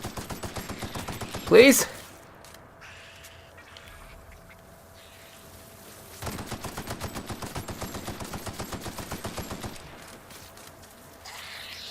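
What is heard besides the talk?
gunfire from turrets in the video game The Outer Worlds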